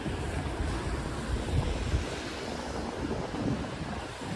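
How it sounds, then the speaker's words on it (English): Wind gusts buffet an outdoor microphone on a New York City street, producing a constant rough, low rumbling roar that swells and dips slightly throughout, with no speech. "it's getting windy here"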